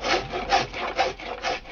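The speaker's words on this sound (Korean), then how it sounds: "이렇게 깎는 것을 그는 도랭이 개탕질이라고 하더군요." A traditional Korean hand plane shaves the curved surface of a wooden soban table, four rhythmic, close rasping strokes of blade across wood, loud and alone.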